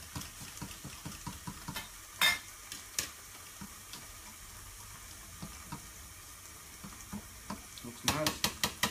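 Chopped herbs are mixed into cream with a spoon, giving soft, irregular wet clicks and scrapes against the bowl, a few sharper knocks at the start and end, and faint background hum.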